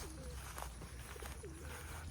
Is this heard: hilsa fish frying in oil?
no